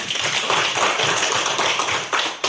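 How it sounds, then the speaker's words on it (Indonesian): A class of students applauds a classmate, with a dense, brisk patter of many hands clapping together at close range, holding steady before tapering briefly near the end. "Tepuk tangan untuk Yana."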